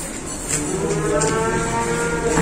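Limousin cattle low repeatedly at a livestock dealer's yard, a sustained nearby moo rising and falling over steady background farm noise, with no talk.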